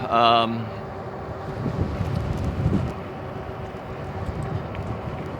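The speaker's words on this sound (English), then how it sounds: "the wind is kind of pushing me at this point" Wind buffets the microphone steadily during an outdoor ebike ride on a 54-degree day, a continuous low rumble after a brief louder burst at the start.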